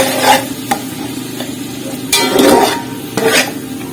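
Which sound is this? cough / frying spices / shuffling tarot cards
frying spices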